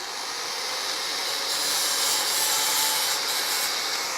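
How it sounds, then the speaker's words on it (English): Steady abrasive grinding rasps against cut sheet metal while deburring a freshly cut wheelhouse on a 1969 Dodge Coronet, a close, continuous hiss that swells slightly partway through with no talk. "What I'm doing is just cleaning up the burr."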